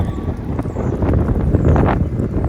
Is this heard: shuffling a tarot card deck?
no